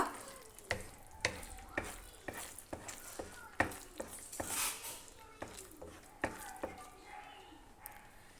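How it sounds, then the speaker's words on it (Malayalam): Beetroot halwa cooked with ghee is stirred in a pan, the spoon scraping in a steady series of sharp strokes over a soft sizzle, close and fairly quiet with no talking. "നന്നായി ഇളക്കി കൊടുത്തുകൊണ്ടിരിക്കുക"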